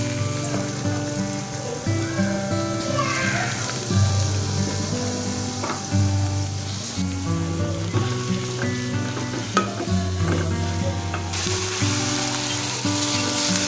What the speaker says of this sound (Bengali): এরপরে আমি পেঁয়াজটাকে একটু বাদামি করে ভেজে নিব